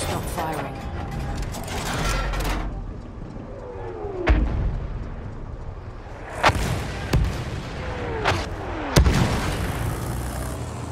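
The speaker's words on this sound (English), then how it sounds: "Wait for the enemy medic barrage to stop firing." Artillery barrage in a war video game: a rumbling battlefield bed broken by several sharp booming impacts and mechanical clanks spread across the stretch, with a brief game voice early on.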